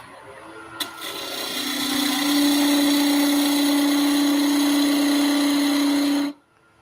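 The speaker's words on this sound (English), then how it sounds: "I'm going to do this with a fluted bowl gouge." Wooden top spinning on a lathe while cut with a fluted bowl gouge: a steady whirring hum with a continuous rasping cut that holds for several seconds, then cuts off abruptly.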